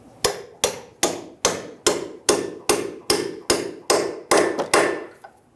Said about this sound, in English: I'm going to use a hammer and a punch to help me fully install the bolt.